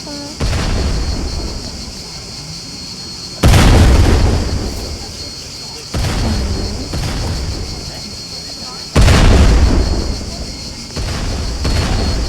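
Bomb explosions in a Roblox game: a series of loud, booming bursts, each with a sharp onset and a decaying rumble, repeating every few seconds.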